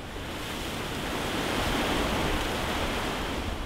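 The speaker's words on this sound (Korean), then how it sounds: "금방이라도 삼켜버릴 듯한 파도" Rough sea waves crash off Ulleungdo island in Korea, a dense, roaring wash of surf with wind, loud and continuous without voices.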